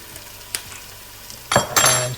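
Chili flakes and fennel seeds sizzling in hot oil in a pan, quiet frying broken by sharp clinks and scraping bursts as a utensil stirs them.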